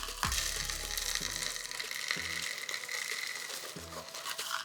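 Seed bird food pours steadily into a homemade bird feeder, giving a continuous rushing, pattering flow with a few soft knocks and rustles and no talking.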